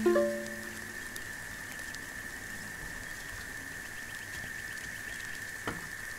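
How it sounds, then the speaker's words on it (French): Rain falling on hot ashes in the video game Paperbark, a steady soft hiss of drops spreading across the whole clip, with a brief sharper tone at the start and a faint thump near the end. "Les gouttes de pluie fraîches grésillent au contact des cendres brûlantes"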